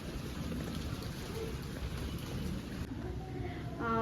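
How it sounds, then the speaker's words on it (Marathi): A dense, even hiss of rain falling steadily outdoors, with a voice beginning to speak faintly near the end. "इकडं बाहेर पाऊस येतोय"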